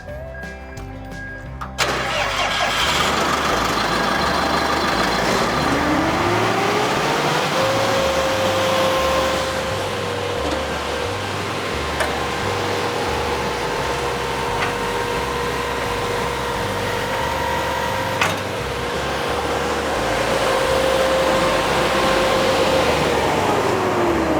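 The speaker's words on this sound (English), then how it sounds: "I'm going to start the engine. I'm going to increase the RPMs, raise it up, lock it up, shut down the machine." A Brush Bandit 1580xp wood chipper engine cranks and catches, then revs up to a steady high drone that holds, dips briefly and climbs again, loud and close with no talk.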